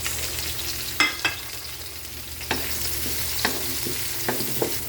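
Garlic and onion sizzle steadily in a hot pan for Filipino mung bean stew, with a few sharp stirring scrapes and clatters punctuating the continuous frying hiss.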